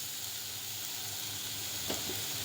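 Grated beetroot frying in a pan, a faint, steady sizzling hiss with a brief scrape as it is stirred.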